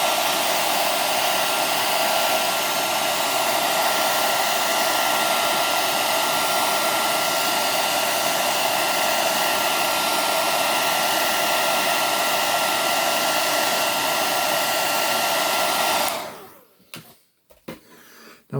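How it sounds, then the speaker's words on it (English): A hairdryer blows steadily on an action figure's plastic joints to soften them, a loud constant whoosh that runs without a break before cutting off, leaving a few soft handling knocks. "break a factory seal by taking a hairdryer"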